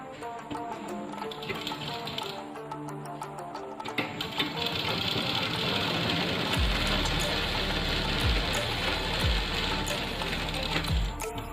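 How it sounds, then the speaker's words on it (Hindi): An electric sewing machine stitches a full-flared gharara, starting after a few quiet seconds with a faint voice and then running in a steady, close, rapid mechanical whir with slight pulsing. "अब यहाँ से शुरू से सिलाई लगाएंगे"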